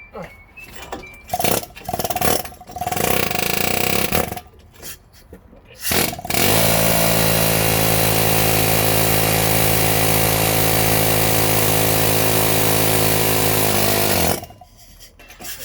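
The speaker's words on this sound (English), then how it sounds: "Now I'm gonna see if I can break it loose with the air chisel again." Air chisel hammering at a seized wheel bearing on a 2016 Dodge Ram 4x4, with short loud bursts at first, then one sustained harsh chattering run of about eight seconds, close and loud.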